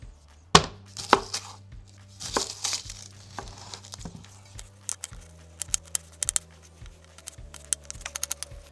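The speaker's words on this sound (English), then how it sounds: "our next move is to chop up one whole white onion" Kitchen knife roughly chopping a whole white onion on a cutting board, a run of crisp, uneven cuts near and fairly loud, some papery crinkling of the skin, over a low steady hum.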